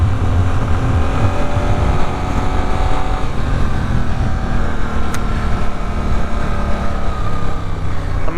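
A 2023 Suzuki GSX-8S motorcycle engine and exhaust drone steadily while riding, a loud continuous rumble with wind noise and no talk.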